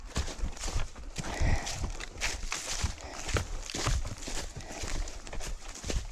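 Horse hooves clip-clop close by in an uneven walking rhythm, a string of soft thuds and knocks over quiet outdoor background.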